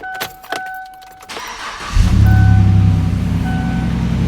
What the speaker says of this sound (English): let's see what this exhaust system sounds like